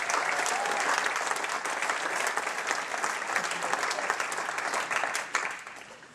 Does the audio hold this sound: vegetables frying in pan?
no